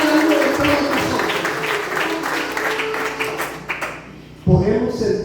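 A church congregation at a San José Patriarca community service applauds in a dense, sustained clatter of many hands that fades out, followed by a brief louder thump.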